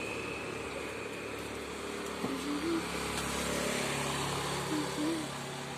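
A truck engine idles with a steady low, even hum throughout, fairly quiet, while people talk over it.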